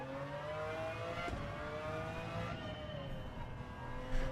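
Race car in a time trial video game, engine note climbing through revs with gear shifts and a downshift as it slows, steady and fairly faint throughout.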